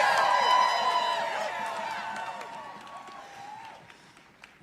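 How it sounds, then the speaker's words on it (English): A crowd at a political rally for the Consumer Financial Protection Bureau cheers loudly, whoops and claps, the noise peaking at once and then fading slowly over several seconds. "Let's give a huge cheer for the CFPB."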